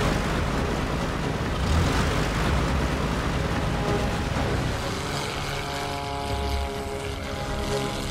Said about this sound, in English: Just seconds after takeoff, Guy's within a wingspan of the Vulcan.